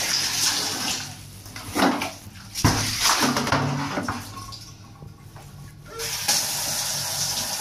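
Water running from a tap in a bathroom, a fluctuating hiss and splash that swells and drops in bursts, with brief clunks and pauses as the flow changes, close to the microphone.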